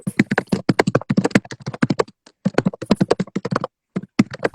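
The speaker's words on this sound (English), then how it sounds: "he is a fast typer and a loud one at that too" Rapid, loud typing on a computer keyboard, dense bursts of clacking keystrokes in quick succession with a couple of brief pauses, close by and alone without talk.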